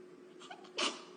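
A person sneezes once, a single sharp burst of breath preceded by a soft intake, fairly close against a quiet room hum.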